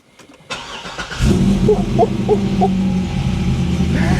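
A C6 Corvette engine cranks briefly and fires up, settling into a loud, rumbling idle with a deep throaty tone close by.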